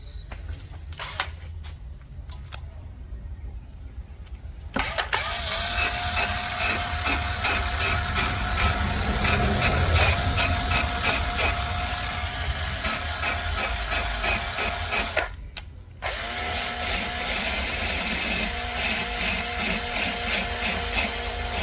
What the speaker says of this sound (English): so I'm going to get a wire brush and take care of that.